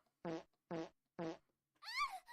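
A fart sound effect played three times as short, even, buzzy blurts, then a longer rising squeal, loud and close with nothing else heard.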